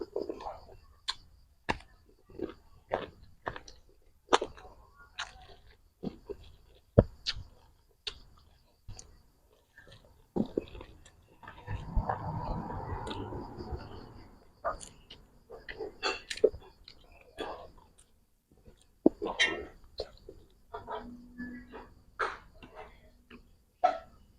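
Crunchy chewing of Thai spicy pork larb with pork ear and skin, close sharp crunches and clicks in an irregular rhythm, with a soft rustling stretch partway through and quiet mouth sounds between bites.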